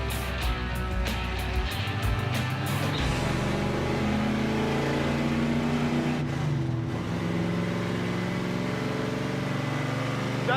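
A car engine drives steadily on a road during a test drive, a loud continuous close drone inside the vehicle with rising and falling engine tone and no talk.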